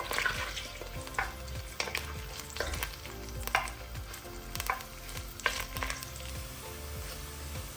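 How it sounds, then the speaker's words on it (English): Sliced onions frying toward golden brown, a continuous soft sizzle broken by repeated scraping stirs of a utensil in the pan, close and alone without speech. "We're going to fry these until they're golden brown."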